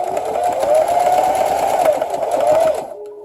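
A sewing machine runs a slow, steady straight stitch with the foot pedal barely pressed, a close, continuous whirring hum for almost three seconds before it stops.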